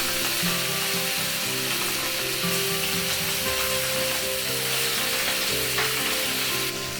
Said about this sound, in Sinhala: මේ විදිහට ටික වෙලාවක් මේක ටෙම්පරාදු කරගන්නවා.